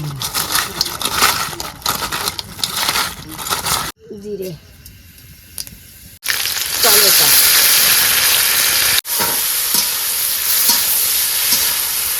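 Crabs fry in oil with turmeric and chilli in a home kitchen, giving a loud continuous sizzle with stirring scrapes that briefly drops away and then surges back strongly, while a voice talks over it.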